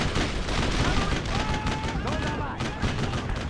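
Battle gunfire in the Brothers in Arms World War II game, steady crackling rifle and machine-gun shots layered with distant booms, while voices shout over the fighting.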